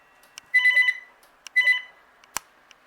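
A VTech CS6114-11 DECT 6.0 cordless phone rings for an incoming call with two short electronic trilling bursts about a second apart, fairly close and clear in a quiet room.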